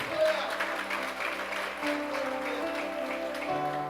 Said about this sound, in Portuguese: Pode aplaudir o Senhor, obrigado.